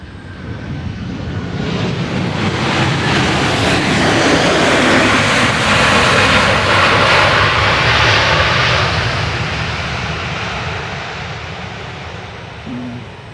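Airliners roar past at Dallas Love Field airport, a broad jet-engine rush that swells from the start, peaks in the middle and fades toward the end, heard alone without talk.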